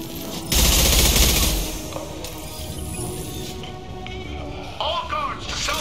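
Gunfire in a video game: a loud, rapid burst of shots for about a second, followed by quieter game sounds and faint chatter.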